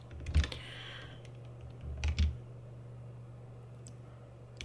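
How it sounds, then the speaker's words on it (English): Clicks of WASD keys pressed on a computer keyboard while moving through a 3D scene, a few short close taps in small clusters against a quiet room. "I can move around with the WASD keys"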